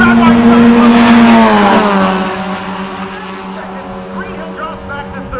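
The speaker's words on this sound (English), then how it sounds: "It's a Costa Miata drag race." SBRA Mazda Miata race cars accelerate side by side uphill under a bridge at Road America, with a loud, sustained engine drone that falls in pitch as they pass, under excited race commentary.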